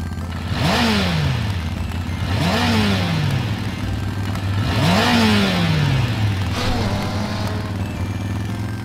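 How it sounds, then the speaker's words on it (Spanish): A red motorcycle revs repeatedly, four rising-and-falling engine sweeps spaced a couple of seconds apart over a steady idle drone, loud and close. "¡Es roja y es una motocicleta!"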